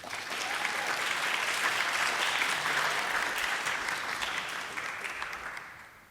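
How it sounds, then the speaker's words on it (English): An audience at a leadership summit gives speakers and presenters a sustained round of applause, dense and steady from many hands before tapering off at the end. "Let's give them another round of applause"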